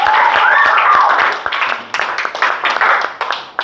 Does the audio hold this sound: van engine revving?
no